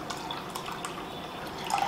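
Water carrying black-eyed pea peels is poured off from a bowl into a strainer, giving a steady trickling and dripping wash of liquid at close range, with no voices.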